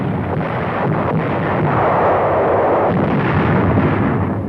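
Naval and aerial bombardment of Inchon during the Korean War, with ships and aircraft shelling the shoreline: a sustained, loud roar of distant artillery fire and blasts rumbling continuously without pause.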